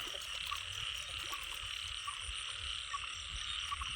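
Frogs croaking in a dense outdoor chorus with steady layered calls and a constant insect-like hiss behind them, continuous and fairly loud.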